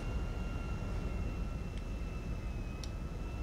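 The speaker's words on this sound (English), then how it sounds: "You're now taking off, requesting tower for takeoff." Airplane taking off in a video game, a steady low engine roar with a sustained whine tone running throughout, no talking, with two brief faint clicks partway through.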